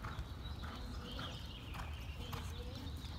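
Horse hooves clip-clopping in an arena during an intermediate barrel racing lesson, a steady run of soft, fairly near footfalls against low background rumble.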